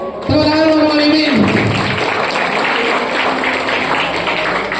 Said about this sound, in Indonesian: Tepuk tangan untuk Alimin